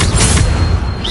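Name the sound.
Bombarda explosion spell cast in Hogwarts Legacy video game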